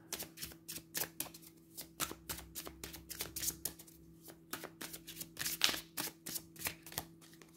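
Tarot cards shuffle in quick, close, rhythmic riffles and taps, soft and steady throughout with a faint background hum and no talk.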